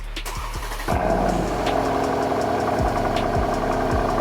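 Cold start of a Mercedes C63 AMG V8, with a starter whir and then a sudden loud bark that settles into a close, steady, rumbling idle, with no talking.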